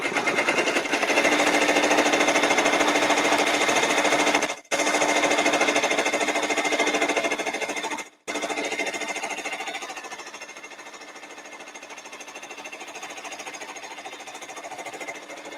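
A domestic sewing machine runs a steady, rapid tack-down stitch securing fabric for a sparkly appliqué, a loud continuous mechanical buzz with two brief pauses before settling into a slightly quieter, even run.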